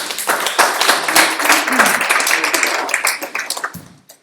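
A room full of attendees at a community forum on homeless teens gives a loud, close round of applause. The clapping is dense at first and then thins into scattered claps that fade out at the end.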